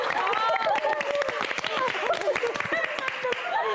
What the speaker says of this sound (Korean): 아 진짜 저는 찐박수예요